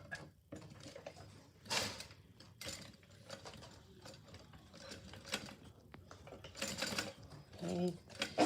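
A sewing machine top stitches the ends of a fabric bag in short, quiet mechanical bursts and whirs, with pauses and handling noise between runs.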